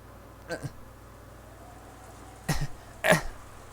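A video game character gives three short coughs or throat-clearing bursts, one early and two close together near the end, over a quiet low hum.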